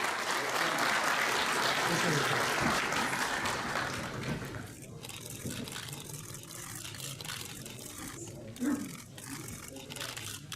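An indoor audience applauds Turkish minister Berat Albayrak in Uşak, dense clapping that holds steady for several seconds then thins out and fades under murmuring voices.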